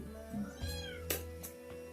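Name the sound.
kitten meowing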